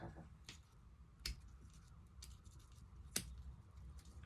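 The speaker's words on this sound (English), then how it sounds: "I'll trim this piece of ribbon a little bit shorter." Worn household scissors trim a piece of ribbon for a small sewn doll dress, giving a few crisp, close snips spaced apart against a quiet room.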